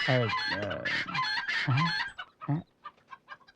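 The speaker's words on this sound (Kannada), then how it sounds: "ಕೋಳಿ ಕಿರಿಚುದ್ ಕೇಳಿದ್ರೆ ನಾ ಹಿಡ್ದಂಗಿತ್ತು" A rooster crows loudly and close, in several drawn-out calls, then breaks into quicker, fading clucks. The sounds come from a Kannada film scene.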